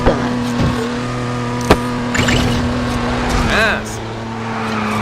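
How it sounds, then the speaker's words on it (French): Steady engine drone of a car driving in LEGO City Undercover on Wii U, with a few sharp clicks and a brief swooping effect, under someone briefly speaking French. "On est libre de rouler où on veut, c'est pas mal."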